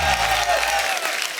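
A studio audience on a comedy show bursts into loud, sustained applause, dense clapping filling the room as a guest is welcomed, with a voice briefly audible at the start.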